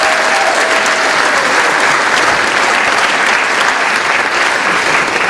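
An audience at a school Veterans Day ceremony gives loud, sustained applause, a thick, even wash of clapping that lasts over five seconds.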